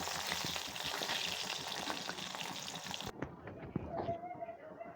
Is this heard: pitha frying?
yes